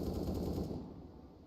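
A sniper rifle fires in a Counter-Strike style shooter, a single sharp burst with a short decaying tail, heard alone.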